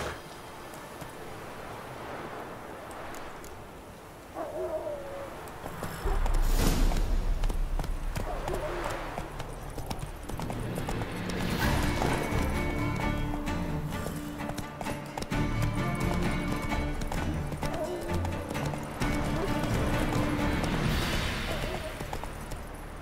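Steady clip-clop of Roach's hooves in The Witcher 3, a rhythmic trot carrying on through the whole stretch among game ambience, with brief horse snorts and speech-like voices passing in the background.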